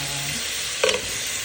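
Green onions fry in melted butter in a pan for green onion soup, a steady close sizzle with one brief stirring scrape and clink partway through, and no talking.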